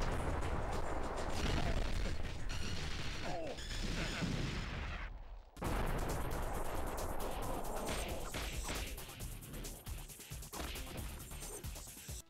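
Special attacks in the video game X-Men: Mutant Academy 2 produce dense, loud crashes, booms and impact hits that run almost continuously, broken once by a brief dropout before the barrage resumes.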